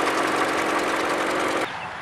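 A 2018 Toyota Camry's 2.5-liter four-cylinder engine idles with a steady, even hum and a faint knocking texture, then drops suddenly to a quieter level near the end.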